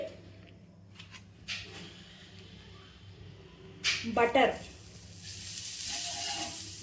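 Butter sizzles on a hot tava as pav buns are toasted for pav bhaji, rising into a loud, steady frying hiss midway after some clatter, with a person talking nearby throughout.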